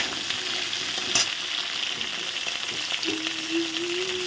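Slit pointed gourd fries in hot oil in a pan, giving a steady, even sizzle close by with occasional small pops and stirring clicks, and no talking.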